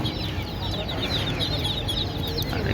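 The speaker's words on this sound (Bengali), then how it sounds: "অনেক মুরগির বাচ্চা আছে দেখতে পাচ্ছেন মুরগির বাচ্চা ছোটো ছোটো" Chicks and chickens cluck and peep steadily at a crowded outdoor bird market in Fatullah, a dense, continuous flock chorus with busy market bustle underneath and no clear voices.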